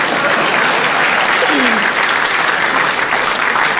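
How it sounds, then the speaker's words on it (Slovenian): An audience at a stand-up comedy show bursts into loud, dense, continuous applause, the clapping steady throughout with crowd noise mixed in. "Ste mi mogli zaploskati,"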